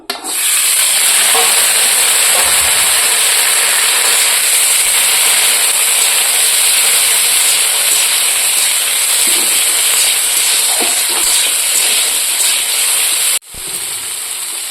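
Vegetables fry in hot oil with a loud, steady sizzling hiss, broken by occasional stirring scrapes and a brief pause near the end; no one speaks.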